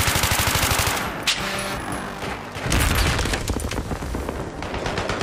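Rapid automatic gunfire rattles in the Battlefield 3 video game, broken by a heavy grenade blast, then more sustained bursts of shots close and loud.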